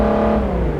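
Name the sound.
Lexus GS 350 F Sport V6 engine at full throttle, City Car Driving video game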